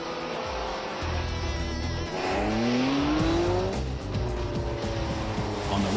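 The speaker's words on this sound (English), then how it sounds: "On the racetrack, the test driver first checks the 599 with its traction control turned off." A Ferrari 599 is driven hard on a racetrack during a handling test, its engine revving and rising in pitch through gear changes while tires squeal, loud and close throughout.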